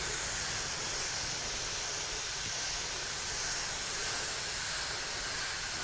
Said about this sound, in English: we can get the hose into the mist function and just try and lightly cover it